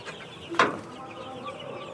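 Broiler chickens aged 41 days on a village poultry farm in Bangladesh give a single sharp squawk over a quiet, faintly murmuring barn background.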